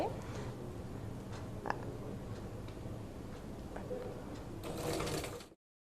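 A sewing machine stitches a half collar neckline in a steady, fairly quiet whirring run with faint ticking, ending in a brief louder burst before stopping.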